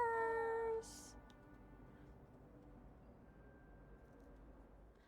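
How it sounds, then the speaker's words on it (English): A cat in the Hogwarts Legacy video game gives a short, clear meow, then settles into a soft, steady, low purring rumble that carries on quietly to the end. "Oh, it purrs."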